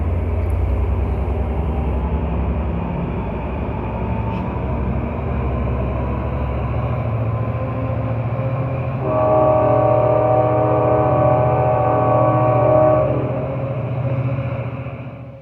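A train rolls through a crossover from track 2 to track 1 on the Union Pacific line at Jackson Square, Oakland, with a steady low rumble, then a loud sustained multi-tone horn blast midway before easing off.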